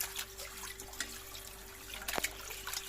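Water poured over chicken being washed, a faint trickling and splashing with occasional drips and a brief louder splash, close and without talk.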